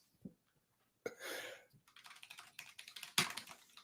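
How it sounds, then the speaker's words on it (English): Fingers type on a computer keyboard in uneven bursts of close, crisp key clicks, with a brief rustle and a louder clack near the end, and no talking. "That's a long one, but we're typing it out."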